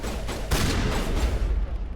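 Sustained assault rifle fire in the sci-fi shooter Mass Effect, a dense, loud, continuous burst of rapid shots with no gaps, heard alone.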